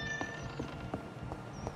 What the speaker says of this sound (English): Sorry about my cat again making noises again.